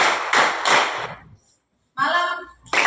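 Grade-six pupils at an elementary school clap together during a classroom clapping game, three quick group bursts of hands, then a pause with a voice calling out, then another clap burst.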